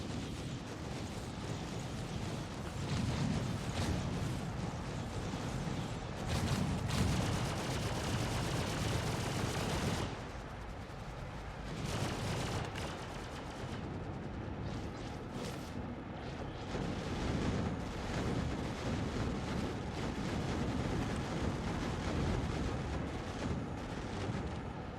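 Video game gunfire striking a Bengal supercarrier, a dense, rumbling barrage of shots and explosions that swells and fades in waves, heavy and continuous, with no talking.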